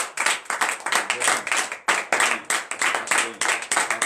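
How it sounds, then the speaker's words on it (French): A church congregation in Benin claps in a quick, steady rhythm during a Friday morning prayer service. The sharp claps are loud and close, with a brief break partway through, and a little voice can be heard underneath. "Dis-lui merci par ton acclamation."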